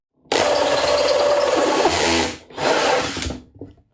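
A power drill drives a screw into a shop-vac-powered vacuum box, a loud close whine lasting nearly two seconds, a brief dip, then a second shorter burst before stopping.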